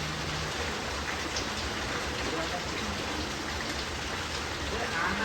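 Heavy rain at night pours in a dense, unbroken hiss that stays constant and fairly loud throughout, with no clear voices standing out.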